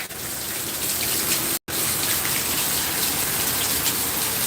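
Heavy rain pours down at night in Danang, a dense, loud, continuous hiss of water broken only by a split-second cut partway through.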